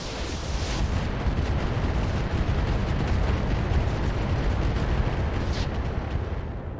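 Mech weapons fire in the RogueTech video game, a dense, continuous barrage of booming explosions and rapid gunfire, loud and sustained with crackling bursts throughout and no voices.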